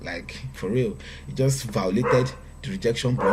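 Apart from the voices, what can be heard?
dog barking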